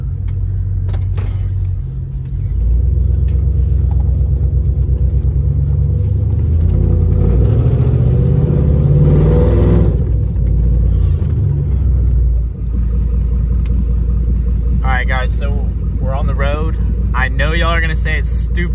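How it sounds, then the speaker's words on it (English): Loud, close rumble of a rebuilt truck engine with an exhaust leak, a deep steady idle that swells as it revs, with people talking over it near the end. "I hear an exhaust leak now that we're speaking of it."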